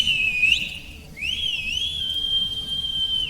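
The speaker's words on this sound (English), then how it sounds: "a deafening whistle pierced the silence" A piercing, high whistle rises and wavers, breaks off briefly, then returns and holds a long sustained tone over a low background hum.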